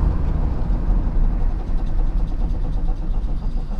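In a racing video game, a race car with a bad wheel bearing or warped brake rotor rolls along with a steady, rumbling engine drone and dense low grinding noise, continuous and fairly loud, with no talking.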